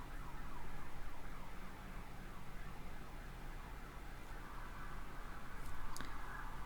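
Emergency sirens outside, faint and distant, wailing under a steady wash of street and room noise with a sharp brief click near the end.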